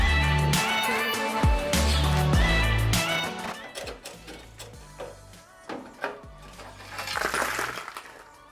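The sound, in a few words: coins falling out of car body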